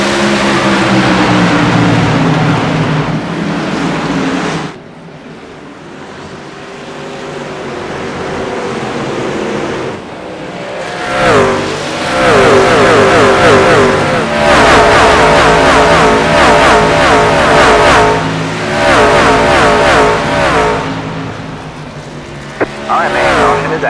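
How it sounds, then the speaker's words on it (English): Race trucks from an iRacing Truck Series event at the one-mile Milwaukee track roar past in a dense, continuous engine drone, loud throughout, dipping briefly before swelling again as the pack passes. "We're going to listen to the sounds of these trucks going around this 1 mile facility."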